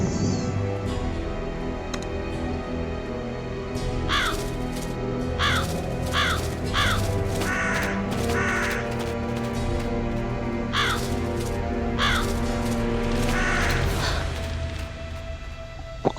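Crows in a video game caw repeatedly in short harsh bursts, several calls spread irregularly over a steady game soundscape, fairly clear and near, with no talking.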